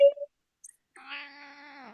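A cat gives a short chirp, then a drawn-out, wavering meow close by in a quiet room, with no one talking.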